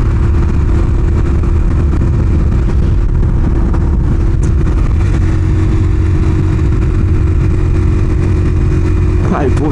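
A Honda TMX125 or Kawasaki Barako 175 motorcycle engine pulls hard while riding uphill. It makes a loud, steady, close-up drone mixed with wind rush that lasts the whole time.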